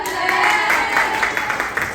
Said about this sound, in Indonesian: Oke, makasih tepuk tangan dulu dah.